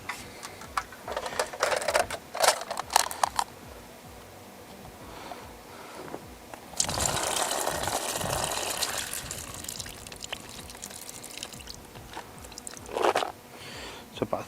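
Prepared particle bait is tipped and stirred into a spod mix for carp fishing at a Cotswold lake, with wet squelching, rattling grains and a sustained pouring burst in the middle, close and fairly loud.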